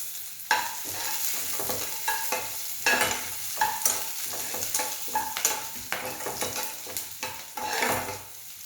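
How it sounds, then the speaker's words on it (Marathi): Raw urad dal fries in oil while a spoon stirs it, so a steady sizzle runs under repeated scraping strokes against the pan, close and fairly loud. "कच्चीच उडदाची डाळ घ्यायची आणि त्याला व्यवस्थित तेलामध्ये फ्राय होऊ द्यायचं आहे"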